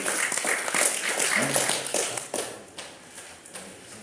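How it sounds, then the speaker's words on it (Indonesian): Audience applause for a presenter at a talk, a burst of clapping that thins into scattered claps and fades over a few seconds, with faint voices mixed in. "kita berikan tepuk tangan Prof. Reno."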